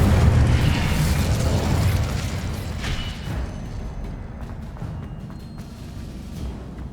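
Incendio fire spell in Hogwarts Legacy, a loud roaring burst of flame that rumbles and slowly tapers over several seconds, with a few small crackles toward the end.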